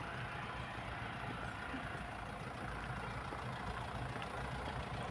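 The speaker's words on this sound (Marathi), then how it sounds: "आणि अशी ही आहे आईस्क्रीम ट्रक इकडे" An ice cream truck idles nearby in a spring garden in Cambridge, a low steady engine rumble with a constant hum and no break in the sound.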